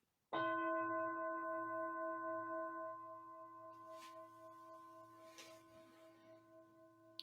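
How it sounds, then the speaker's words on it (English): A single bell struck once at a meditation gathering rings out with a clear, sustained tone that fades slowly over several seconds, quiet and alone apart from a couple of faint soft noises. "I'm going to just ring the bell"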